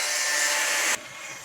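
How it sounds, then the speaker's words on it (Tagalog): Nearby house construction produces a loud, continuous, rasping power-tool noise like sawing or grinding, which abruptly drops to a softer background hiss near the end, with no voices. "may house construction dito sa malapit sa akin kaya maingay"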